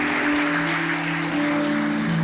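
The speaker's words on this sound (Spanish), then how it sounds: "qué te parece si le damos un fuerte aplauso a nuestro Señor" A church congregation claps in a sustained round of applause, a dense noisy spread over a steady sustained tonal hum, with no distinct voices on top.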